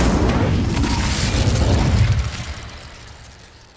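The Incendio fire spell in Hogwarts Legacy erupts as a heavy, roaring whoosh of flame that holds loud for about two seconds, then rumbles away into a fading tail.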